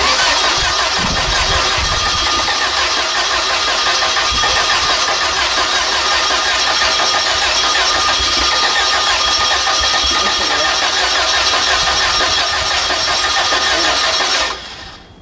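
A gaseous-fueled test engine cranks steadily and tries to catch, a loud, continuous mechanical churn close by for about fourteen seconds before cutting off abruptly.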